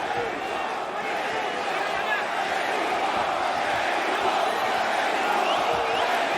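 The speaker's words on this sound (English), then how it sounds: "There you hear the Mexico chants from this very pro-Mexican crowd." A very pro-Mexican crowd at a heavyweight boxing match between Andy Ruiz Jr and Luis Ortiz roars in a dense, steady wash of voices, a sustained arena chant with no pauses across the whole stretch.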